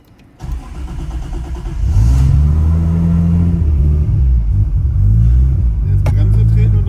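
A 1000HP single-turbo Toyota Supra with an automatic gearbox cranks and fires, then settles into a loud, deep, lumpy idle with pulsing rumble up close; a voice is heard briefly.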